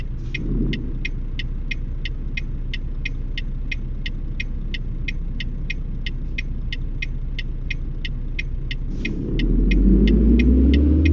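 A Volvo VNL 860 truck drives with a steady low engine rumble, and a regular ticking, likely the turn signal, sounds throughout. The rumble swells louder near the end as the truck accelerates.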